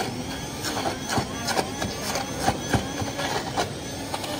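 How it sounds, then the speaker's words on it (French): A steady whirring motor grinds and rattles continuously, with irregular knocks and clatters against a bowl. "je vais faire un peu de bruit, mais je vais mixer tout ça"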